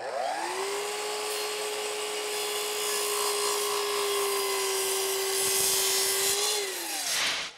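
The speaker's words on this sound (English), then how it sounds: "So let's go miter it and then use a bandsaw to cut that curve." A bandsaw cuts a curve into pre-milled wood baseboard. A steady, close, loud motor whine carries under the rasp of the blade through the wood before it winds down at the end.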